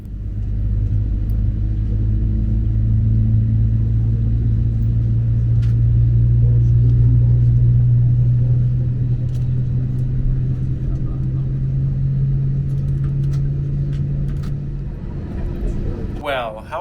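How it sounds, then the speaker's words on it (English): Wizz Air Airbus A321 taxiing toward the runway for takeoff, a loud steady engine rumble and drone heard from inside the cabin that swells and eases slightly, with a brief rattle at the end. "We are taxiing to runway 16 and will be taking off first for Greece."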